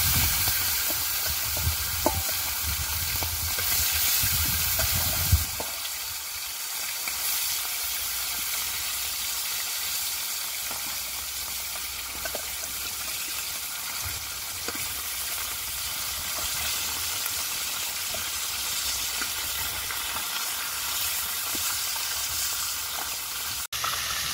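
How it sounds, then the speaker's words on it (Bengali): Fish fries in a wok with a steady, broad hiss of hot oil that stays even and close throughout, a brief louder burst near the start as it goes in. "এবারে মাছটাকে ভাজার জন্য কড়াইতে দিই।"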